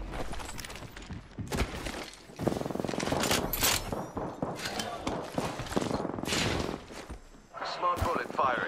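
Smart bullet gunfire in Apex Legends, bursts of rapid shots in dense clusters with short pauses between, loud and close, mixed with footsteps and other game effects.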